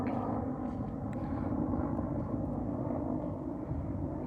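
Orange helicopter passing overhead near a river on a fishing trip outside Yakutsk, a steady low rotor-and-engine rumble that holds constant throughout without talk.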